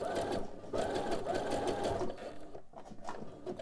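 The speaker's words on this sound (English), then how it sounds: "Hold that and then sew." A sewing machine stitches a double-folded hem on boxer brief fabric, running in steady close bursts of rapid mechanical chatter with brief pauses between runs.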